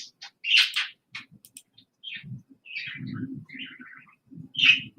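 Birds chirp outdoors in short, bright bursts of tweets and trills, scattered across quiet gaps, with a few low cooing sounds like a dove underneath.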